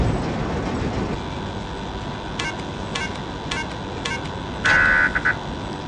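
A train rolls along in the PC game Demo Friend, a low continuous rumble under a few sharp electronic clicks and a short buzzing alarm near the end, with no one speaking.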